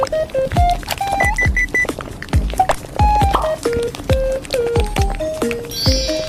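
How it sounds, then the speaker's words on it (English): Electronic sound effect of bubbly pops and thumps with short beeping alarm tones scattered throughout, steady and fairly loud. "use one of two audio files which have like a bubbling sound in the background"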